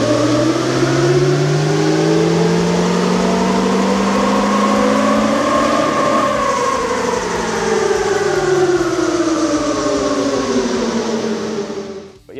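Nissan Patrol with an M57 engine under load on a dyno, a loud steady drone whose pitch climbs, peaks and then eases off before cutting out near the end.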